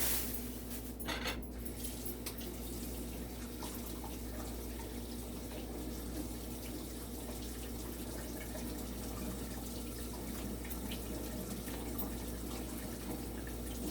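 Running tap water splashing steadily over organic cucumbers and tomatoes in a kitchen sink, a continuous close rush with a few brief clinks near the start.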